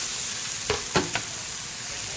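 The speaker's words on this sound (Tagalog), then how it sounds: "Lagay na rin natin yung ating kalabasa." Pumpkin squash going into a simmering pot of pinakbet with pork tail, with three short clattering stirs and plops over a steady background hiss, close and fairly quiet.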